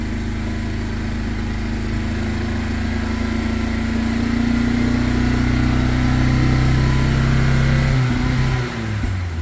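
A Honda BR-V engine revs hard against its rev limiter, a loud sustained droning hum held steady before dropping off near the end, close to the microphone with no talking.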